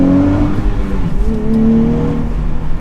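A 2023 Nissan Z sports car accelerating, its engine note climbing steadily and loud from start to finish, heard up close from the cabin without talk.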